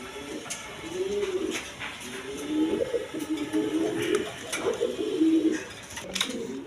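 High-flying Giribaz pigeons coo in low, rolling calls, several overlapping close by, with a soft constant background hum.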